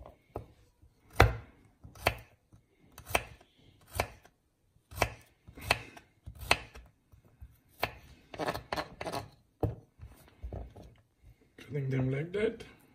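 A knife chops six garlic cloves on a cutting board in quick, close, crisp strokes, bursts of rhythmic cuts with short pauses, while a person talks over the work.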